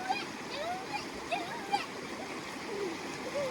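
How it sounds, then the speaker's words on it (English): River water splashes and pours during an outdoor shower by a stream, with steady rushing and bursts of splatter while people talk and call out over it. "Some nice river water, nice and cool"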